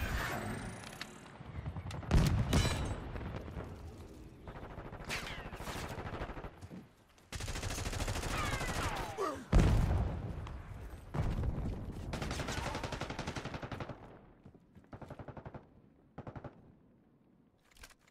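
Call of Duty Black Ops 6 gunfire: repeated automatic bursts and single shots in uneven clusters, loud and close, with pauses between volleys and engine rumble underneath.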